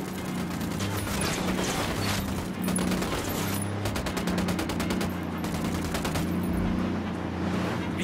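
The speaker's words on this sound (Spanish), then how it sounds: "Voy a disparar." Dense gunfire in Ghost Recon Wildlands, a sustained fusillade of rapid overlapping shots and bursts running loud and continuous throughout.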